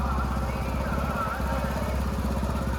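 Motorboat engine drones steadily and loudly throughout while the boat is driven on a Kerala backwater, a constant low throbbing hum with no pauses.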